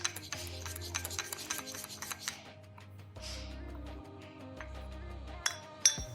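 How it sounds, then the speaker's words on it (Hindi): Homemade eyelash serum oil with cloves and rosemary leaves being stirred, giving a steady scraping, rubbing sound with a few light clinks, close and fairly quiet. "अब इसको हम कर देंगे अच्छे से मिक्स"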